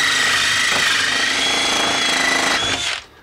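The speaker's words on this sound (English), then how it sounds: "This is a dull hole saw." A dull hole saw grinds steadily into a cigar box banjo, a loud continuous buzzing drill whine that holds for about three seconds and then cuts off.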